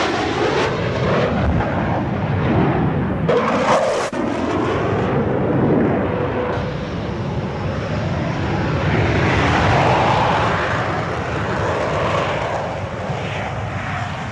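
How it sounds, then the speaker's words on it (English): A McDonnell Douglas F/A-18 Hornet twin-engine fighter at a 1987 RAAF air display, roaring loudly and continuously as it climbs vertically, with a dense broadband jet rumble swelling and holding throughout, no voices. "the FA-18 was rocketing in a vertical climb thousands of feet above"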